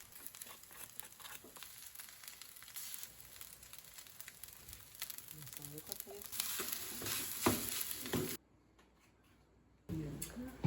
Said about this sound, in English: we fried up the leftover morning rice with some natto and egg mixed in